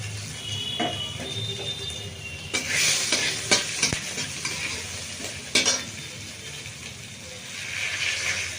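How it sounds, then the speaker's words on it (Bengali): Whole garam masala and chopped garlic tempering in hot oil during cooking of a moong dal, with a steady sizzle and hiss, clinking stirring and a few sharp louder sputters, close by with no talk. "ফোড়নটা দিয়ে দিল, গরম মশলা ফোড়ন, এর সঙ্গে একটু রসুন কুচি"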